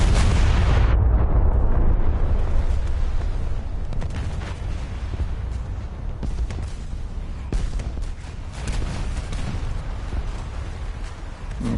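Battleship guns fire constantly in War Thunder, a heavy, rumbling barrage of booming blasts and sharp cracks with no pauses, loud and close throughout.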